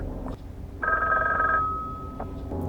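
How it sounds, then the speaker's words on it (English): A telephone rings once in a hotel scene from the 1980 film The Shining, a steady bell tone over a low room hum. "He's gonna phone Wendy up in a few minutes to tell her."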